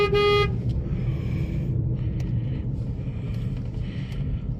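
A Maruti Suzuki S-Presso petrol hatchback gives one short, bright horn toot, then a steady engine and road rumble carries on alone for several seconds.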